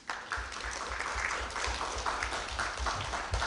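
An audience at an indoor live radio mystery theater performance applauding: dense, steady clapping from many hands fills the whole stretch at moderate volume, with no voices on top.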